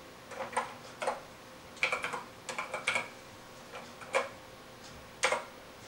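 Keys clacking on a 1981 Texas Instruments TI-99/4A home computer keyboard, a series of close, crisp clicks in irregular bursts with short pauses between, heard alone in a quiet room.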